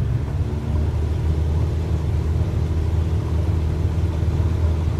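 A light aircraft engine at full throttle in Flight Simulator 2020 during touch-and-go practice at Lawrence Municipal Airport, a steady, loud droning rumble with constant tone and no letup.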